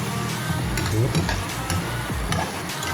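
Vegetables frying in hot oil in a pan give a steady close sizzle, with scraping stirring strokes and a faint voice in the background.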